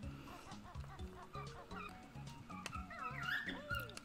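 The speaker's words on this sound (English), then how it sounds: "I was trying to get that bird to chill with me as I play games for now." A pet bird squawks and chatters in a room, with rough repeated calls and higher chirps over a rhythmic, bouncy video game background, moderately faint.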